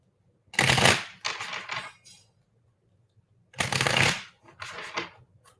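Tarot cards being shuffled by hand, two crisp riffling bursts separated by a quiet pause, close and fairly loud, each followed by softer shuffling flutters.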